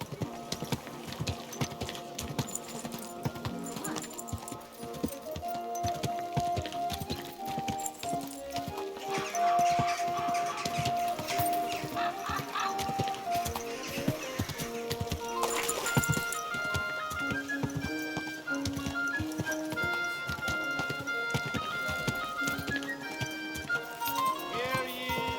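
A horse's hooves clip-clop at an easy, regular pace in the video game Kingdom Come: Deliverance 2. The hoofbeats are mixed under steady background music and ambience, with a voice speaking briefly.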